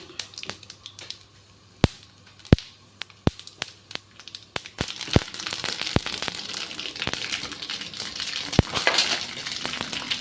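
Mustard seeds splutter in hot oil for a quick mango pickle, scattered sharp pops at first that thicken into a dense, crackling sizzle, close and moderately loud, with no talk.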